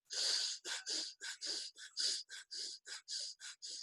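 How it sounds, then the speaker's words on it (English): Breath of fire yoga breathing: about fourteen quick, forceful nasal exhales in a fast, steady rhythm, close and crisp, each a short sharp whoosh with brief gaps between, and no talking. "Forced exhales out through the nose."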